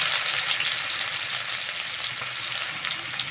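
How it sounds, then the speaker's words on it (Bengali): Crushed garlic fries in hot oil already spiced with dried red chilli, bay leaf and cumin, making a loud, dense, continuous sizzle heard close up with no voices. "রসুন থেতো করা দিয়ে দিচ্ছি।"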